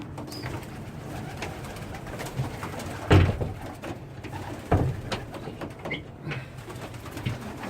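Pigeons in an outdoor aviary coo softly and intermittently over a low background, with a couple of brief louder thumps or flutters partway through and no speech.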